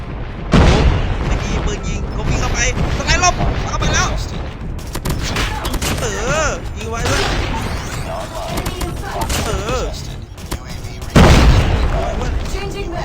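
Loud Call of Duty Mobile grenade explosions boom over continuous gunfire and busy game effects, while voices talk excitedly throughout.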